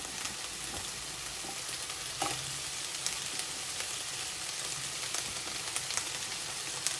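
Baby corn hitting a hot pan for a chicken teriyaki noodle stir fry, giving a steady moderate sizzle with light crackles and a few sharp ticks, no voices.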